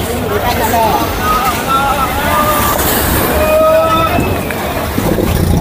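A tourist boat pulls in to a pier in Thailand's Phi Phi Islands. Its engine drones steadily and fairly loudly, mixed with wind and the murmur of a waiting crowd.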